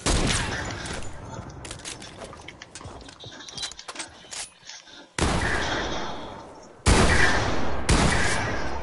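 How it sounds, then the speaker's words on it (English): Loud, dense gunfire in a shooting video game, with rapid automatic bursts and booming shots that come in waves, some sections cutting out abruptly, while players talk faintly underneath. "You about to shoot him, Chris?"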